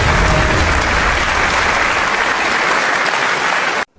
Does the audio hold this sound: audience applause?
yes